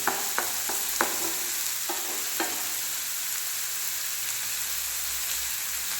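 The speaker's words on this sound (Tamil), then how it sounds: "இப்போ நல்லாவே வெங்காயம் சூப்பராக வதங்கிடுச்சுங்க, நல்லா கோல்டன் ப்ரௌனில் வந்துருக்கு" Onions sautéing to golden brown in a pan for soya chunk curry, a few sharp spatula scrapes and taps at the start, then a continuous even sizzle alone.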